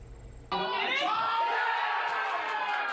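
A crowd packed into a soccer bar in Center City, Philadelphia, bursts into loud cheering and shouting after a quiet moment, then keeps up a dense roar.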